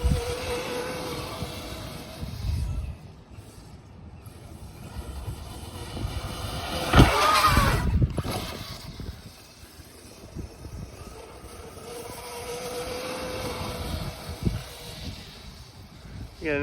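An Arrma Kraton 8S RC car runs at full throttle, its motor whine rising and fading with distance and a loud burst midway, over wind and outdoor background noise.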